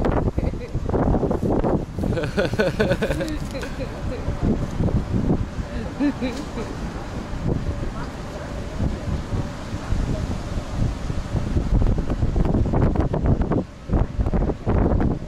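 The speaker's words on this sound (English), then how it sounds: "It's so windy." Strong, gusting wind on a Hong Kong street at night roars and buffets the microphone steadily throughout, rising in harder gusts toward the end, with no talking.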